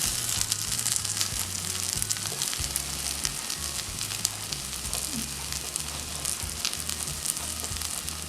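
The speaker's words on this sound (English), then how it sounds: "Flip with the help of a skewer and cook from both sides until it's light golden brown" Bite-sized masala dosa appe batter fries in an appe pan with a steady, even sizzle and crackle of oil that runs unbroken throughout.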